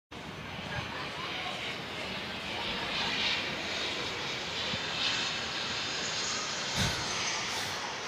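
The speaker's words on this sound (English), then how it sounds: "Got planes flying over." Aircraft pass overhead near a university soccer stadium in Louisville by an airport, a broad steady engine roar spanning the whole stretch with commentators talking over it.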